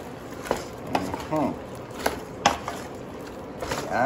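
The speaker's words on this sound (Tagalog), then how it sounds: "Saka po natin halu-haluin." A spoon clinks and scrapes in a pan as drunken shrimp are stirred, scattered sharp taps and soft scraping strokes spread across the moment over a quiet background.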